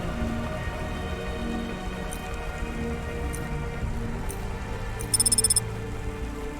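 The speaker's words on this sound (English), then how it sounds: "Don't let all the rain get you down." Steady rain patters continuously in the Cloudpunk video game city, a soft even wash with faint ambient hum and a brief electronic chirping near the end.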